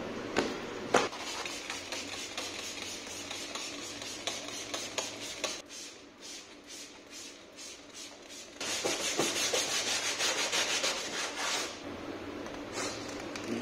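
A cleaning product is scrubbed into the wheels of a car, a soft repeated rubbing and brushing that keeps going with small knocks and grows a little louder toward the end, and no one speaks.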